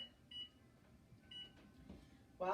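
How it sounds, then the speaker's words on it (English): A kitchen timer beeps briefly at the very end, after a baking galette goes into the oven, a short electronic tone rising sharply over quiet room noise. "I'm going to start my timer for 25 minutes"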